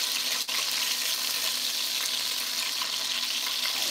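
Chicken thighs frying skin-down in hot oil give a steady, loud broadband sizzle throughout, with one sharp pop near the start and no voices.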